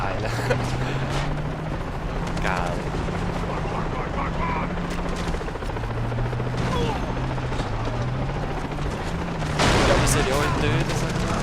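Far Cry 3 combat: a helicopter's rotor drones steadily while bursts of gunfire crack and rattle close by, ending in a louder blast near the end, with someone talking over much of it.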